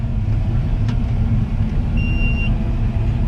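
A Fendt 1050 tractor pulls away in a field, heard from inside the cab as a steady low engine rumble with a faint high whine partway through.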